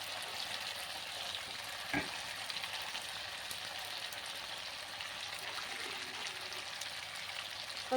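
Chicken curry of local country rooster frying over raised heat with a continuous soft sizzle and a single spoon knock against the pan, no talk.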